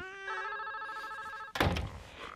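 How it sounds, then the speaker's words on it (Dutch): A telephone rings with a bright, sustained bell-like electronic tone, followed by a thud as the receiver is picked up, then rustling handling noise, fairly quiet. "Dan giet de telefoon."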